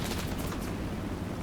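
Rapid machine gun fire in War Thunder, a continuous rattling burst from aircraft combat, dense and steady for the short duration with no speech over it.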